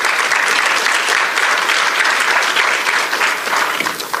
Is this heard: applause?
yes